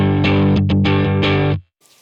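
Electric guitar played through a Keeley Caverns V2 reverb pedal with audible saturation, a few loud distorted strummed chords ringing for about a second and a half before cutting off, followed by a faint reverb tail.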